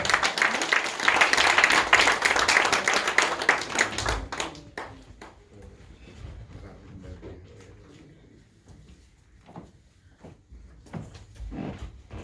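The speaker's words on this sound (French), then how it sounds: "Acclamation au Seigneur" A church congregation applauds in praise of the Lord during a Sunday service, a loud, dense burst of clapping that fades after about four seconds into scattered claps and quiet room sounds.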